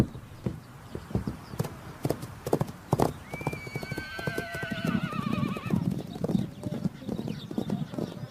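Horses' hooves clop unevenly on hard ground while a horse gives a long, wavering whinny midway, near and fairly loud.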